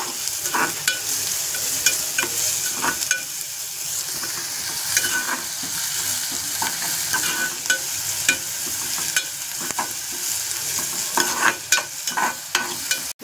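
Chopped onion frying in a pan with a little salt and garlic while being stirred, a steady close sizzle broken by frequent scraping and clicking strokes of the spoon, no talking.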